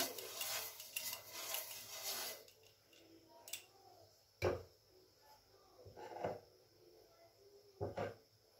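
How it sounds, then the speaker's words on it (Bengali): A pan being brushed with oil using a brinjal stem while making patisapta, giving soft scraping rubs followed by a few brief, distinct scuffs and clicks, close up with no talking. "একটু অয়েল ব্রাশ করে নিচ্ছি প্রথমে।"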